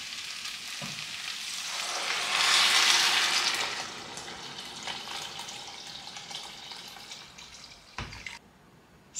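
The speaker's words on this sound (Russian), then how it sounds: "осталось залить все это бульоном." Broth is poured into a soup pot of potatoes and vegetables, giving a rushing, splashing hiss that swells for a couple of seconds and then settles into a softer bubbling, with a light knock near the end.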